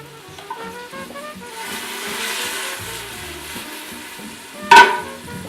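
Basil, parsley and spices sizzle in a pan for pasta fazool, a soft, steady frying hiss close by with stirring scrapes and one sharp clank of a utensil near the end.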